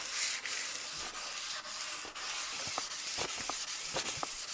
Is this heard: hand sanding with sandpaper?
yes